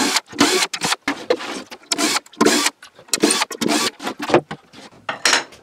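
An intermediate shelf is unscrewed from a drill storage cabinet, likely with a power driver, in short, close, loud whirring bursts separated by brief pauses, repeated about a dozen times.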